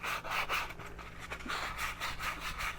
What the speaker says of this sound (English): I'm just using one of these 3M sponges with some very, very fine grit, super, super fine, and I'm just going to go around the insides here.